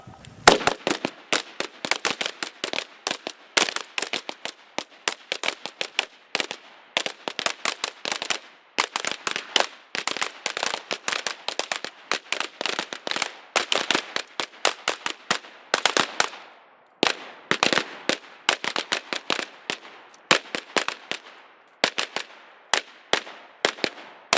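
Carbine gunfire on an outdoor shooting range during a class, dozens of sharp cracks in rapid irregular bursts and strings, loud and close, with brief pauses between volleys.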